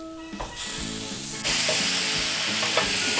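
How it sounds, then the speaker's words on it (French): Leeks and ground beef frying in an oiled pan, a loud continuous close sizzle that swells after about a second and a half, with the scrape and clatter of stirring over it. "Quand vous sentez la bonne odeur du poireau frit, rajoutez les 100 g de bœuf haché."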